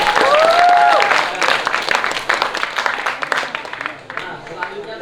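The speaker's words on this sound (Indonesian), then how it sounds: "Berikan tepuk tangan yang meriah kepada kelompok Juanda." Audience at a school language-month speech contest applauds a finalist group, loud clapping starting strong and then thinning out, with a host's voice and a brief tonal whistle-like sound near the start.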